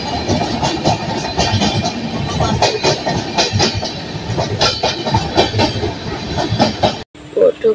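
A passenger train rolls along steadily with loud, rhythmic clickety-clack of wheels over rail joints and carriage rumble, continuous and close throughout before a brief sharp drop near the end.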